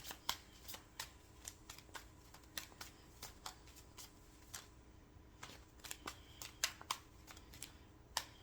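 Tarot cards shuffled alone and close up, a steady run of soft papery riffles and taps with sharp flicks scattered throughout, with no talking.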